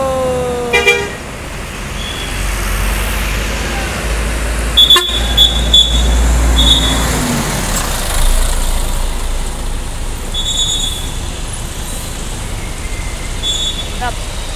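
An Al Hijrah premium bus with a Legacy SR3 Switch Family body drives along a road, its engine rumbling steadily with passing traffic noise, a few short horn toots, and someone speaking briefly at the start.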